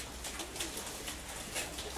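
Pigeons kept in a home loft coo softly, with low murmuring calls over a faint background hiss and no talking.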